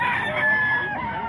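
A rooster crows nearby among roosters for sale at the Bocaue tiangge market, one loud drawn-out crow filling just over a second, with no voices over it.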